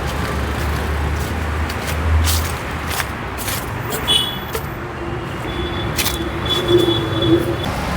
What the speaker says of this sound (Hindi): हो सकता है आपको बैकग्राउंड में कुछ आवाज़ें आती हों गाड़ियों की